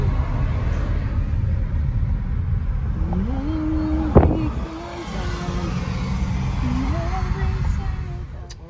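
Steady low road rumble of a car cruising along a road, with faint passing engine tones rising and falling and a brief knock midway; continuous and fairly close, no talk.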